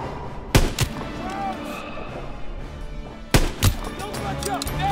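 Gunfire in a WWII video game set in the Hurtgen Forest: two loud bursts of sharp shots, one early and one late, over a busy background of battle noise and shouted voices.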